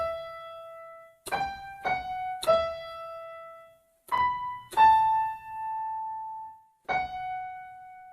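Single-note keyboard melody of a theme from Harry Potter, seven clean struck notes in a slow, uneven rhythm with one long held tone near the end, played close and alone.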